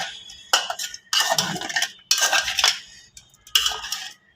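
A knife scrapes repeatedly over the skin of live stinging catfish. There are four distinct bursts of scraping, each about half a second to a second long, separated by short pauses, close and fairly loud.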